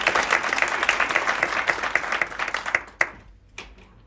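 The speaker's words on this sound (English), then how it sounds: "A round of applause for Mam Ndlozi." A crowd at a children's dialogue event claps in a lively burst of applause, strong at first and then thinning into a few scattered claps before fading to quiet.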